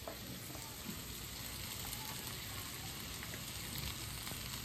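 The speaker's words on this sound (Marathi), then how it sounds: "कांदा जाळलाच नाही गॅस बारीक केला" Chopped onion frying in a pan for poha on a home stove, a steady, even sizzle that runs unbroken and fairly quiet throughout with no voices.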